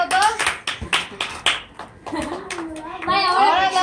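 Hand claps at a lively family play session, several bursts of clapping mixed with children's excited voices and chatter, close and fairly loud, with kids talking and squealing throughout.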